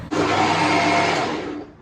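A kitchen blender whirs steadily while blending a milkshake with milk at home, a loud continuous motor drone lasting nearly two seconds before tapering off slightly at the end.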